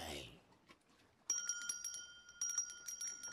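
A doorbell rings at the door in an anime scene, with a bright chime heard in two bursts over quiet background.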